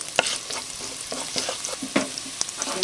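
Garlic sautéing and sizzling in a hot pan for a pork and bell pepper stir-fry, with steady frying crackle broken by several sharp stirring scrapes and clinks, close and clear with no talk.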